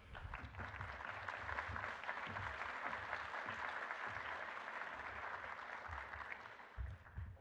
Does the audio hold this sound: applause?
yes